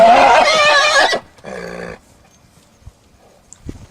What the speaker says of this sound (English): both the grey horse and the bay horse are being very vocal